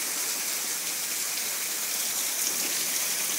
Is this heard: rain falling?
yes